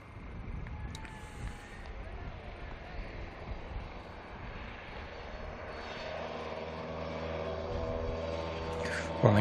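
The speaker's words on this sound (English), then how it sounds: "Here's the Rosso RS 2000, the last of the rally cars, filtering back to the" A Rosso Ford RS 2000 rally car with X-Pack wheel arches, originally Pinto-engined, drives back to the paddock at a historic race meeting; its engine drone builds steadily and grows louder, under wind and distant noise.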